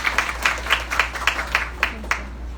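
A small group claps steadily in an even, quick rhythm to honour the speaker Alexandre at a talk on legal marketing for lawyers, with a low hum running underneath and no speech.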